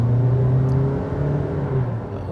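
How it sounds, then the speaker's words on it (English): A 2024 Toyota Prius XLE AWD hybrid with a CVT revs as it accelerates, its engine giving a steady droning hum that holds at a fairly constant pitch rather than climbing, close and moderately loud with no talk. "At least it gives some sense of acceleration and revs climbing"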